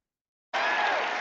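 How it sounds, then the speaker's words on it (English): Audience applause for a speaker at a seminar, bursting in abruptly after a moment of silence and continuing as a dense, steady clatter of clapping at moderate distance. "I don't think I've ever introduced anyone that got applause like he just got"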